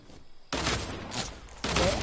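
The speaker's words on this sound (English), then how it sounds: "I'm being shot at." Gunfire aimed at the player in Fortnite, a quiet lull broken by two loud bursts of rapid shots, each a dense rattling volley close by.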